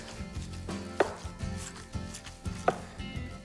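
Knife chopping through seasoned meat on a board while portioning it for skewers, two sharp distinct thuds about a second and a half apart over soft background handling noise.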